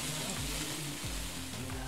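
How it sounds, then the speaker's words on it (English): Onions sizzle and fry in a pan in the cooking video game Venba, a dense, steady crackling hiss that fills the whole stretch without talk. "Oh, the sound of something frying is just"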